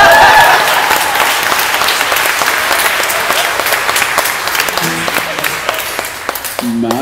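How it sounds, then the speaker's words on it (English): Loud, sustained audience applause at a live comedy and music show in Austin, Texas, a dense crowd of clapping that fades slightly toward the end as a voice breaks in. "I loved how the applause started even before you had finished the rant"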